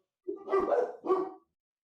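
Dogs barking sharply and aggressively, a quick double bark then a third, close and loud with no voices.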